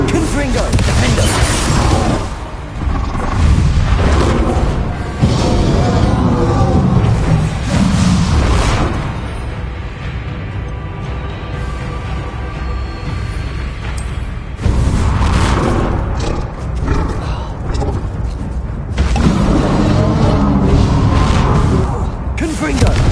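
Booming spell blasts from the Hogwarts Legacy video game, Bombarda and Confringo explosions, thud repeatedly and loudly through dense, continuous combat noise, with voices talking over the fighting.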